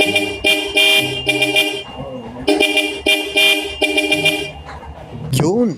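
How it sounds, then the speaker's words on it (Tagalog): The loud horn of a Bajaj RE motor tricycle sounds a rapid series of short, blaring honks in two clusters, very close and harsh, followed by a final rising-and-falling tone. "sa wakas meron na tayong magagamit na malakas na busina"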